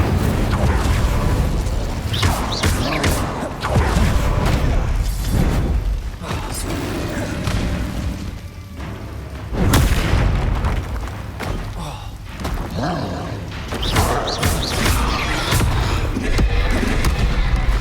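Incendio and Expelliarmus spells are cast in Hogwarts Legacy, bursting as loud booming blasts and whooshes that follow one another over a dense, continuous game soundscape throughout.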